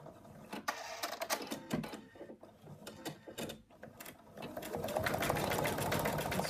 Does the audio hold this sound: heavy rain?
no